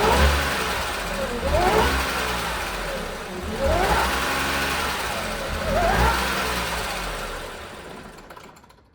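An Audi S5 bought from a salvage auction runs roughly, with the engine surging and revving in repeated swells about every two seconds, loud and close, before fading out as it stalls.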